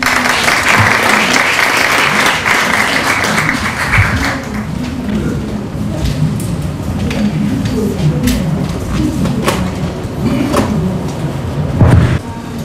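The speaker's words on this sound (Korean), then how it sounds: "여러분 박수로 환영해 주십시오." Audience applause welcoming a Yonsei University Korean literature professor to a lecture hall talk, sustained steady clapping from a large crowd lasting throughout, loud and close with a brief swell near the end.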